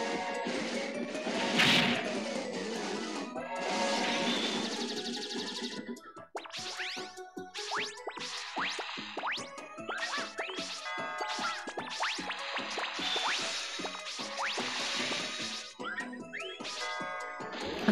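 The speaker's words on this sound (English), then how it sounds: "when the bell in the background gets rung, based on what type of platform you're touching the ground on, you'll get like a different effect" In a Mega Man 8 stage, a background bell rings out amid dense game music and sound effects, with repeated bright metallic dings and clangs scattered through a busy, continuous mix.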